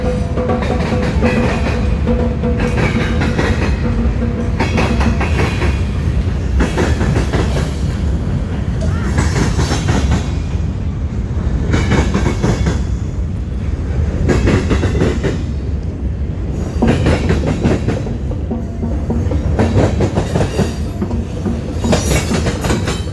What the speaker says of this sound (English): The drummers back there are listening to the train